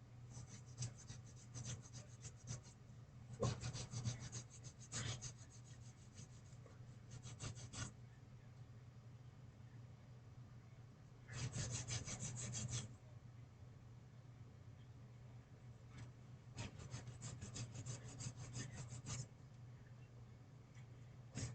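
Intermittent scraping and rasping bursts of a blade or file trimming hard plastic B-26 Marauder model kit parts, quiet and close, with pauses between strokes.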